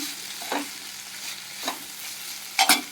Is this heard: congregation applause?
no